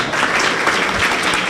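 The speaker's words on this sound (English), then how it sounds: "So I'd like you to applaud these guys because they've been coming from very far." An audience applauds at an SEO conference, giving a dense, steady wash of many hands clapping that lasts throughout, with no voices standing out.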